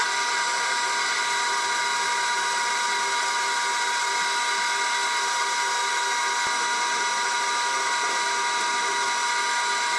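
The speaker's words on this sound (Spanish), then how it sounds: "vamos a ir al banco a lijarla" A bench sander grinds down the sole of a Converse canvas sneaker during a shoe resole, giving a steady, loud, continuous abrasive whir that holds unbroken throughout with no talking.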